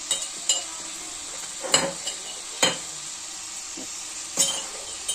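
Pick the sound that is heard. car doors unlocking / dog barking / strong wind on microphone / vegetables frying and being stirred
vegetables frying and being stirred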